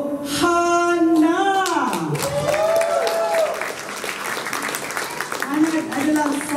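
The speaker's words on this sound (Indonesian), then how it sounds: "kita berikan tepukan untuk Hana" A crowd applauds for Hana, a winner, at a fan showcase concert, with a steady wash of clapping running throughout while an amplified voice speaks over it.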